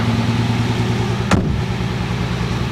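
A 1969 Mercedes car engine running close as the car pulls away, a steady mid-pitched idle-like drone broken by one sharp brief click or clunk partway through.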